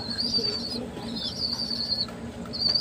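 Pigeons flap their wings in a new cage, with bursts of fluttering wingbeats and faint high chirps nearby, close and moderately loud.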